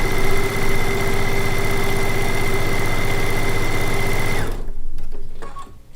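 A sewing machine stitches quilt-top pieces in a steady, loud, continuous whir with a constant motor hum, running alone for about four and a half seconds before stopping abruptly, followed by faint handling clicks.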